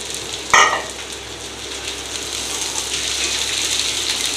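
Onions dropped into hot oil in a pan for a Chinese-style mixed vegetable dish, with a loud hiss and splash as they land, then a steady close sizzle.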